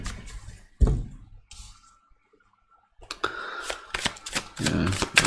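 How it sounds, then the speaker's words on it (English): Tarot cards are shuffled by hand in short bursts of riffling, flapping clicks, close and crisp, with a quiet gap in the middle before a longer run of shuffling. "let's shuffle one more time"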